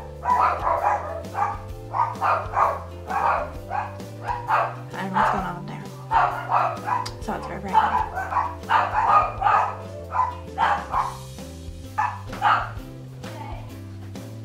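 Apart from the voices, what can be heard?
dogs barking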